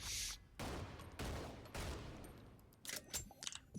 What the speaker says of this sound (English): Next one, Shotgun Rapid Fire.